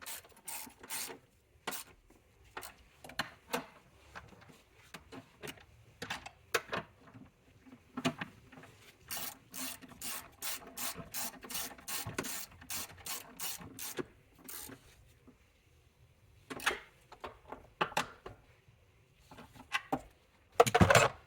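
Ratchet wrench clicking in repeated bursts as 13mm battery hold-down bolts are tightened on a 2013-2019 Mercedes-Benz GL (X166), with quick pawl ticks, short pauses between strokes and no talking.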